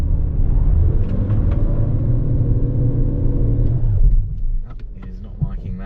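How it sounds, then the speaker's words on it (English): Medium SUV in trail mode on an off-road test slope, engine droning loudly as the tyres spin without progress, steady rumble that eases off near the end; a voice talks over it. "the tyres just spin up and you don't actually get anywhere"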